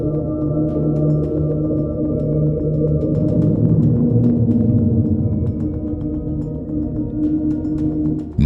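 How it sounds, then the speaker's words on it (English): A loud, deep underwater rumble thought to come from glaciers, with a sustained low drone and faint scattered crackles and clicks over it for the full length. "NOAA later suggested that the sound was caused by glaciers"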